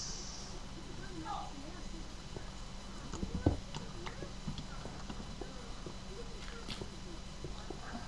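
Horse hooves clip-clop steadily in the Minecraft video game, a soft, fairly faint rhythm running through the clip over low game ambience, with one louder knock midway.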